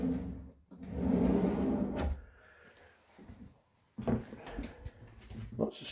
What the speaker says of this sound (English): Nice big drawers. All soft close.